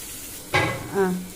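Tomato, onion and dried fish sauteing in a pan for karuvadu thokku: a short scrape of stirring over a soft sizzle, with two brief bursts close by and no talk.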